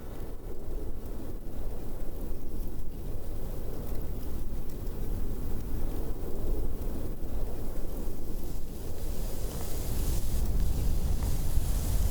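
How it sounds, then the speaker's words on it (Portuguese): Steady wind blows across a Chinese desert in autumn, a continuous loud roar with gusty rumble filling the scene, rising slightly near the end, with no voices. "Começa a ventar."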